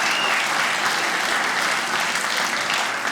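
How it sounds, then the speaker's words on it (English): Full, dense applause fills a comedy club as the audience cheers a good-sport volunteer, loud and sustained throughout with no gaps. "Give him a round of applause."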